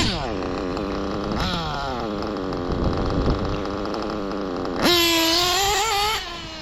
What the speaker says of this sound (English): this engine is warmed up now and it stays running just fine